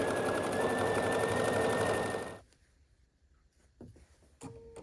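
A sewing machine stitching quilted placemats of green fabric runs steadily and loudly, then stops abruptly midway, leaving a quiet room with a few faint clicks and handling sounds.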